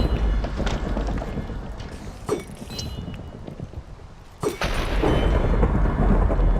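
In Minecraft, a thrown channeling trident calls down lightning: a loud, close crack of thunder with a rolling rumble amid rainstorm noise, followed by a second sharp strike and continuing heavy storm ambience.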